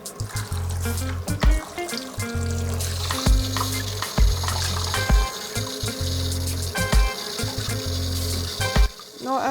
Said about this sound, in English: I'm going to rinse them off now properly to get rid of the salt and also the lemon